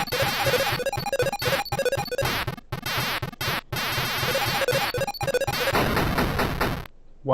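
Busy Centipede arcade game sound effects during play: dense, loud, continuous electronic bleeps, zaps and rhythmic tones with a few brief dropouts, ending abruptly near the close.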